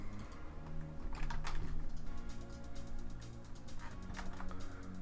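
Someone types on a computer keyboard at a quiet desk, giving quick, faint clusters of key clicks in an uneven rhythm with brief pauses.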